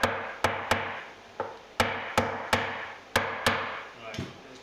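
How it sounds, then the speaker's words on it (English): The butt of a chisel taps a part of a classical guitar being converted to acoustic, making about nine sharp, close wooden knocks at an uneven, deliberate pace. "About a little tap with something. How about the butt of a chisel?"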